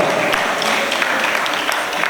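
Audience applause for a contestant at a school competition final, a continuous crackle of many hands clapping, fairly loud and even throughout.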